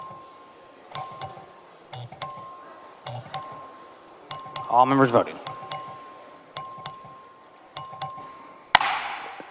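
In the Texas House chamber, a voting bell rings in repeated bright, bell-like chimes spaced about a second apart. A voice briefly speaks over the ringing midway through.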